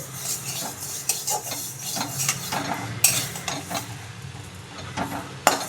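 Mung dal dry-roasting in a dry pan over low heat, with a spatula stirring and scraping the grains and clattering against the metal, and a few sharp clanks at irregular intervals; no one speaks.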